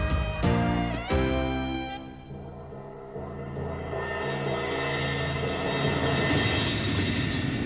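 An aircraft landing at Kai Tak Airport in Hong Kong: a broad engine roar that swells after a couple of seconds and holds loud and steady, with some brief tonal notes at the start.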